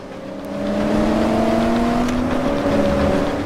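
A car drifts in the video game Alarm für Cobra 11, its engine holding a loud, steady roar that swells in and then sustains with a faint whine on top.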